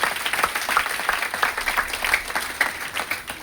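Loud, dense applause from an audience at a Hindi-language motivational seminar ripples on without a break, with many hands clapping close together.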